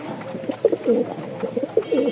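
A male pigeon coos nearby in repeated low, throaty phrases, a rhythmic burbling call with short pauses between.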